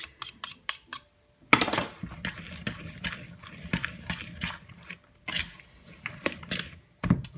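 A utensil mixes a bowl of tabouleh salad made with bulgur and a little olive oil, giving close, irregular clinks and scrapes in short bursts, followed by a stretch of steady stirring and squelching with sharper taps near the end.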